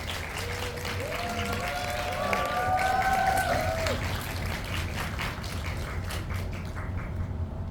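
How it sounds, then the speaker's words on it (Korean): Audience applause in a COEX Megabox cinema as three guests walk in for a post-screening Q&A of the film Escape (탈주): steady dense clapping from a packed house, with a faint voice briefly over it, fading near the end. "세 분의 주인공 입장하실 때 여러분들 뜨거운 박수 부탁드립니다"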